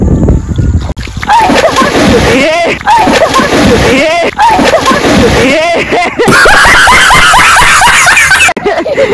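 Someone pushed into a cold river, with loud water splashing and sloshing alongside excited screams, laughter and chatter from several people close by, continuous throughout.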